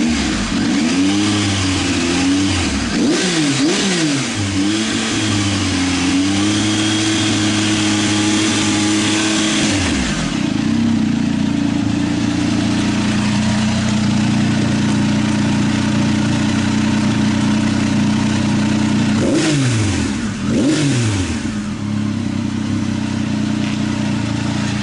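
A 2019 Triumph Tiger 800 XRT fitted with a Fuel Diablo carbon muffler idles, then revs sharply several times in rising bursts before settling back to a loud, steady idle, with another pair of revs near the end.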